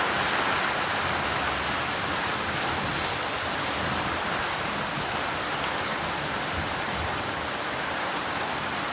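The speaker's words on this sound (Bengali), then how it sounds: "যে টিনের চালের উপরে বৃষ্টি।" Steady rain drums on a tin roof in a Bangladeshi village, a dense, continuous patter that stays loud and even throughout with no voices.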